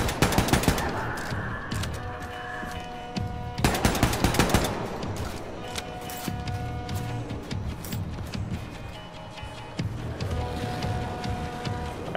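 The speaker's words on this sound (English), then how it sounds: "Who's shooting that gun?" Gunfire in the video game Wolfenstein 2: The New Colossus, bursts of rapid automatic shots among explosions and game effects, loud and busy throughout.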